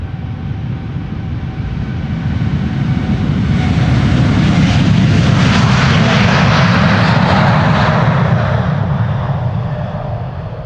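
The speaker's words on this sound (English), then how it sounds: "Next up, KLM flight 877 to Mumbai in India. 7879 Dreamliner, the PHBHE." A KLM Boeing 787-9 Dreamliner, eight years old, departs Amsterdam Schiphol Airport bound for Mumbai, its engines roaring loud and close in a broad, sustained rumble that peaks midway as it passes, with no talk.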